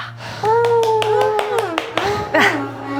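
A lone Pilates instructor claps her hands, a string of about eight or nine sharp, close claps in an uneven rhythm, while she keeps talking over them.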